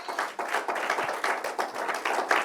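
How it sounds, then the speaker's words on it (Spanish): Congregation clapping during a Spanish-language church sermon, a brisk rhythmic burst of many hands beating together loudly and close for a couple of seconds. "Dale el aplauso al Señor"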